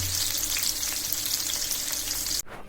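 Spices frying in oil in a pan before surma fish goes in, a steady close sizzle and crackle with light stirring that cuts off abruptly near the end.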